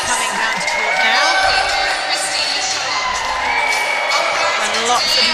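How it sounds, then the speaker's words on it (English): Loud, dense netball crowd cheering and whooping at a home-venue European championship match as the teams come onto court, a continuous roar with scattered shouts and children's voices throughout. "And lots of noise in the crowd."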